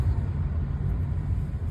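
Afternoon rush-hour road traffic in the Philippines produces a steady low rumble of car engines, dense and continuous, with no distinct horns or voices.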